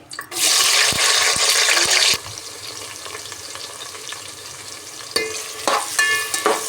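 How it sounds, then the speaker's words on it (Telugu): Bay leaf, cloves, cinnamon and cardamom fry in oil for biryani, giving a loud burst of sizzling at first that settles to a steady softer crackle with occasional clinks of a spoon against the pan. "ఈ మనం బిర్యానీ ఆకు, లవంగాలు, చెక్క, యాలకులు వేసుకొని ఫ్రై చేసుకుందామండి"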